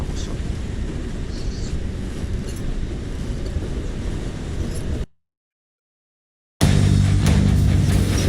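A train in a Roblox game rolls along the tracks with a steady, dense low rumble and wind-like rush that cuts out abruptly for over a second, then returns louder with a heavier low hum.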